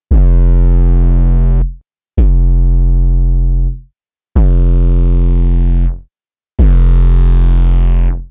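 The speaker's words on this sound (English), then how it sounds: "For harsher and more experimental distortion, I'm still a huge fan of Isotope's Trash plugin." Four loud, sustained 808 bass notes built in Serum with heavy distortion, each a gritty, harmonic-rich tone that holds for about two seconds before cutting off, the later two brighter and harsher, played alone with no voices.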